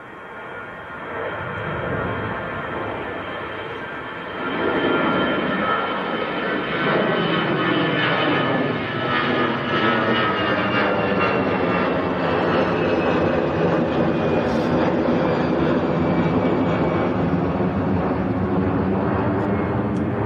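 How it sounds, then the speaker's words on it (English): An EasyJet airliner departing Manchester Airport for Amsterdam, its engines building into a steady, loud rumbling roar with shifting tonal whine that sustains through the takeoff run, with faint voices now and then. "this is EasyJet to Amsterdam"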